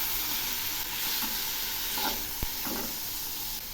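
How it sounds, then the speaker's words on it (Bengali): Onion paste sizzles steadily in a pan with mashed boiled potatoes while being stirred, a continuous close frying hiss broken by a few soft scraping strokes and one sharp click, with no voices. "এগুলিও একটু ভেজে নেব। সেই সঙ্গে দিচ্ছি 2টো আলু সেদ্ধ।"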